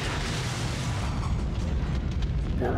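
Explosion in Resident Evil 2, a deep, heavy rumbling blast that fills the low end and rolls on steadily, loud and close, with no voices over it.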